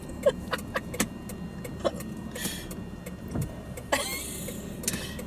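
Cars passing on a busy road near Joshua Tree National Park, heard from inside a vehicle, with soft whooshes and a few sharp clicks and bumps over a steady low rumble.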